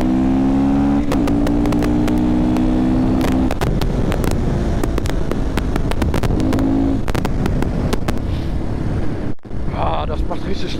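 A motorcycle revs hard and accelerates on a ride in good weather, its loud engine climbing and falling in pitch amid steady wind buffeting, close to the microphone.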